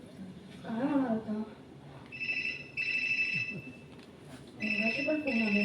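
An old-style telephone bell rings in bursts on stage during a Marathi suspense play, loud trilling rings broken by pauses while actors speak over and between them.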